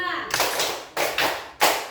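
Children clap a counted rhythm in a classroom, landing three loud unison claps, each followed by a short pause, with a voice underneath.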